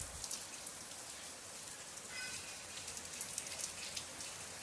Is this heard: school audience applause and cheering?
no